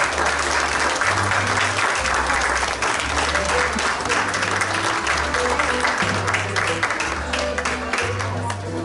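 Audience applause at a dog show after the formal judging of the year's Top 20 Dogs, a dense, steady wash of clapping across the whole stretch with a low rhythmic hum from the venue's sound system underneath.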